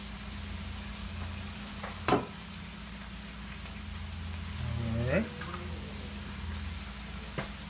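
Chorizo sausage cooks in a Lodge cast iron skillet with a faint, steady sizzle and a few sharp clicks, while a voice is heard briefly partway through.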